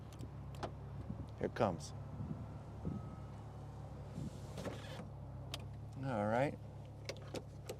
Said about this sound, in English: Okay, I promise to put the top up.